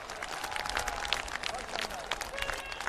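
An audience at a large public event with Prime Minister Modi and a farmers' installment scheme, a dense burst of crowd clapping with a noisy, cheering texture, brief and fairly loud.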